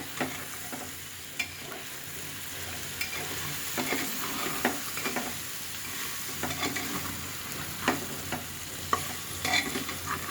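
Chicken pieces with papaya and potato sizzle in hot oil while a spoon scrapes and stirs the pan, steady frying hiss broken by irregular clinks and scrapes, close by with no talking.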